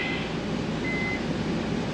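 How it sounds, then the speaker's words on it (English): A microwave oven inside a 2012 Forest River 2860 DS Class C gas motorhome gives two short, thin electronic beeps. The beeps sit over a steady airflow hum from a vent. "Let me clear that microwave out so it's not beeping on us."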